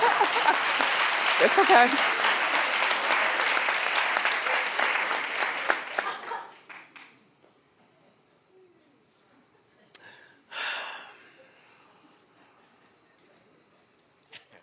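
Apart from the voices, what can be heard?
studio audience clapping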